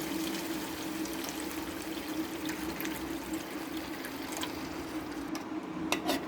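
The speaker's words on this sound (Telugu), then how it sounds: "కొంచెం చింతపండు పులుసు ఇట్లా పోసుకొని" Tamarind water poured into a pan of Telugu-style fish curry with fried fish pieces, making a steady, continuous liquid stream and splash that lasts the whole stretch at an even, moderate level.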